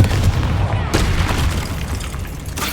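A Confringo fire spell explodes in Hogwarts Legacy, a deep booming blast over a dense, rumbling game soundscape, with a second burst toward the end and a voice in the background.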